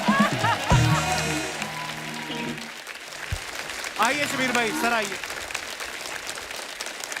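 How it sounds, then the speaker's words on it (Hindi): Studio audience applause for guests on a comedy talk show, clapping running beneath a host's speech and laughter, with bursts of clapping and brief musical accents in between. "जोरदार तालियां हो जाए एक बार शबीर भाई के लिए, अल्ताफ भाई के लिए, सुनीता जी के लिए और श्वेता जी के लिए"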